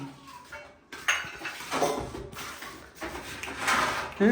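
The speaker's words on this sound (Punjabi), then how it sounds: "ਇੱਥੇ ਭਾਂਡੇ ਦਾ ਚਿਣ ਹੋ ਹੀ ਰਿਹਾ" Metal dishes and utensils clink and clatter in irregular bursts, with scraping and knocking as pieces are set down and stacked close by.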